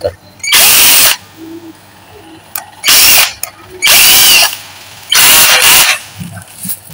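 Three or four loud bursts of a power drill with a 1.5 mm bit whirring at high speed into a motorcycle piston, each under a second, separated by quieter pauses with faint handling noises.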